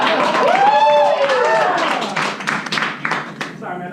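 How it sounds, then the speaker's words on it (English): A studio audience at a React Native tech talk lets out loud whooping laughter and cheering, which turns into a burst of applause and scattered clapping that fades toward the end. "we're going to laugh real loud, and then we're going to turn into applause"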